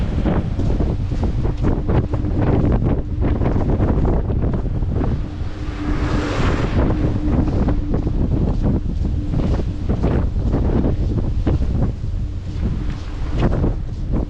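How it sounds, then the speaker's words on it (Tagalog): Strong coastal wind at Kenting, Taiwan buffets the microphone in a constant loud roar, with gusts and a faint hint of surf or water in the background. "Grabe na, hangin dito."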